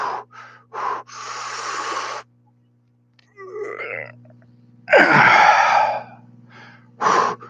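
A person catches their breath after an exercise effort, with loud, close gasping breaths in uneven bursts separated by short pauses, including a long heavy exhale.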